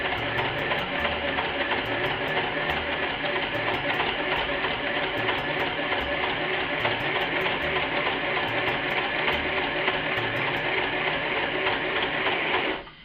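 A machine stitches a zine booklet in one steady, loud, continuous run of rapid mechanical whirring lasting about twelve seconds, with a sharp stop at the end.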